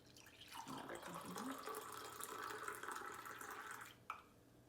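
Coffee pours from a handleless honey pot-style server into a cup, a steady liquid trickle lasting a few seconds, ending with a small clink, quiet and close.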